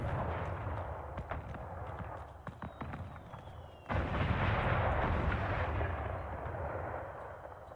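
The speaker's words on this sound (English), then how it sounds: "Fireworks are going off." Fireworks in the video game Dragon Age: Inquisition sound as a dense, continuous rumble of booming blasts and crackling, loud and sustained, with a sudden surge in intensity partway through and no pauses.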